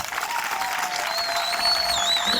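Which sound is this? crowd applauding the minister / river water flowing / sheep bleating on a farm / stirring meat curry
crowd applauding the minister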